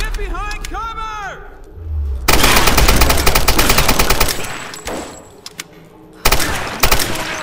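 Loud automatic gunfire erupts in the action-adventure game Tomb Raider, long rattling bursts that stop and restart, mixed with shouting voices and a brief pause before another volley.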